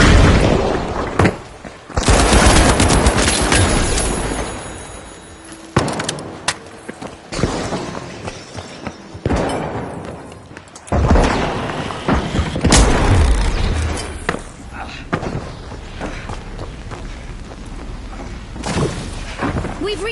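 Rocket launches and explosions in The Finals, a series of loud booms and crashing blasts with debris and mechanical clatter, coming in bursts with short lulls between them.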